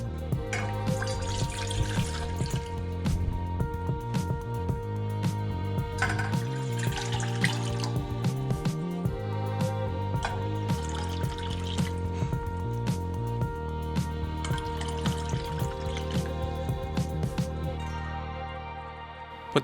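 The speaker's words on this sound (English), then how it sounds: "Put 4 cups of water in a pot to boil." Water runs steadily from a tap into a pot for boiling azuki beans, splashing and trickling continuously, with faint tonal background sound.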